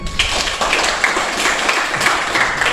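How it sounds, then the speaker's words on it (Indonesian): A classroom group breaks into applause, a dense, lively patter of many hands clapping at once that continues steadily throughout. "Kita berikan aplaus."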